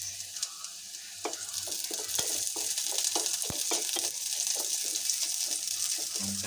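Onions and chillies sizzle steadily in hot oil, with regular scraping taps of a spoon stirring through the pan.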